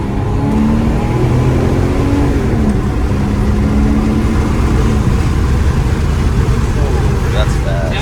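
A Porsche 997 911 Turbo accelerates hard, its engine roaring loud and steady from inside the car with a continuous drone and rising tone.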